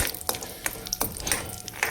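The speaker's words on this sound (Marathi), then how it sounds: "यामध्ये मी पहिलं काजू टाकून घेते, काजूला फ्राय करून घेते मी" Cashews frying in a pan, giving a bright continuous sizzle broken by a few light clinks of a utensil against the pan, close up with no voices.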